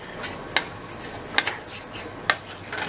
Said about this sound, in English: So now we just gotta stir it around a little bit again.